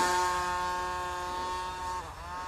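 The engine of a model airplane hums steadily and faintly, then stumbles and dips near the end as it misfires.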